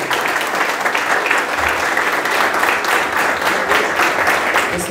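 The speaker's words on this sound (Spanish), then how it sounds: "un gran y fuerte aplauso para ustedes" An audience at a school ceremony honoring first-year secondary students and their teachers gives a loud round of applause. The clapping is dense and sustained, with a faint crowd murmur underneath.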